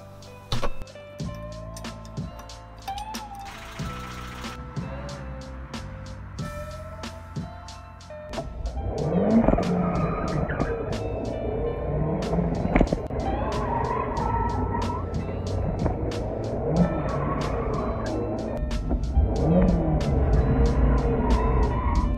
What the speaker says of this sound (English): do a burnout. My brakes are awful, so actually holding the car back would be a bit odd